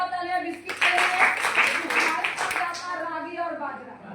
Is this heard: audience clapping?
yes